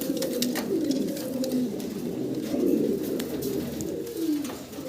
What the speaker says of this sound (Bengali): বিশাল বিগ সাইজের ভিতরে সাদা দবদবে একজোড়া শৌকিং কবুতর আপনারা দেখতেছেন